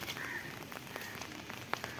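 Light rain falls on garden soil among freshly planted brinjal, tomato, chilli and crossandra seedlings, a steady soft patter with scattered close drops.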